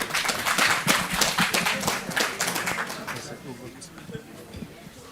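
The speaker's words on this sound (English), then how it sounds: "So give them a big round of applause." Audience at a youth consultation program applauds student presenters on digital health; clapping is dense and strong at first, then thins and fades over the last couple of seconds.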